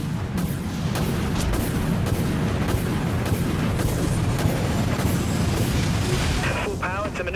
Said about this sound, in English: Launching torpedoes.